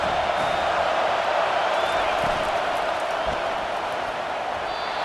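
Stadium crowd noise from the CFB 25 college football video game, a steady loud roar of cheering fans that holds at an even level throughout with no pauses.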